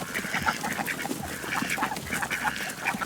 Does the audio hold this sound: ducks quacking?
yes